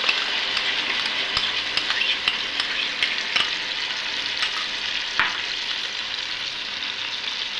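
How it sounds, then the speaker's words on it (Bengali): Yogurt and green chillies stirred into chicken frying in a pot, a loud continuous sizzle with regular ladle scrapes and clicks against the metal, close and steady with no talk. "কয়েকটা কাঁচা লঙ্কা দিয়ে ভালোভাবে দইটাকে চিকেনের সঙ্গে মাখিয়ে নিচ্ছি"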